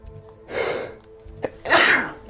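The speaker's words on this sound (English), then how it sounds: "I'm sneezing all over the place." A person sneezes twice in quick succession, close and loud, each burst preceded by a short breath intake, with no talking.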